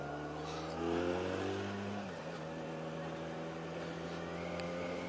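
A Benelli Leoncino 500, a 500cc motorcycle, idles with a steady low engine hum, its pitch briefly rising in a short rev before settling back to a constant drone.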